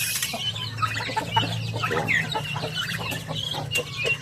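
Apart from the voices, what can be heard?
native chickens clucking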